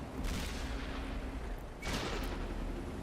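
Tank cannon shots in World of Tanks on the Malinovka map: two heavy booming blasts about a second and a half apart, each with a long rumbling decay, over steady engine-like background noise.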